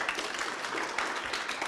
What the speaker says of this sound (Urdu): تالیاں بجا دیں